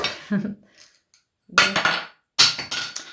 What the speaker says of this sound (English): Just dropped the lid that the beads were hanging in